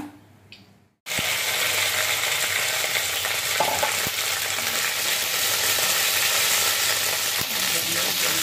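Okra hits a pan of hot oil with crackled cumin: after a quiet second, a loud, dense sizzle bursts in and holds steady, with occasional clicks of a spoon against the pan.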